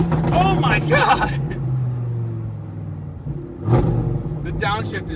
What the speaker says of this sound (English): The downshift is insane.